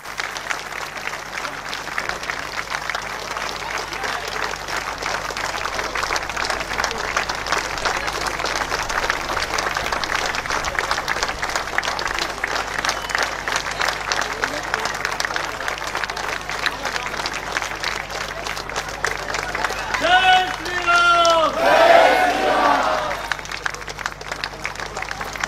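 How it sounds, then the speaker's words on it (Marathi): Sustained audience applause at a Hindu public rally during a felicitation of a couple, a dense continuous roar of clapping from a large crowd, with a voice briefly speaking over it near the end. "या दोघी पती पत्नींचा सत्कार होईपर्यंत टाळ्या वाजत राहिल्या पाहिजे"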